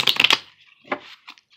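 Tarot cards are shuffled close by in a quiet room, a quick burst of riffling followed by a few softer taps and flicks, with no voice.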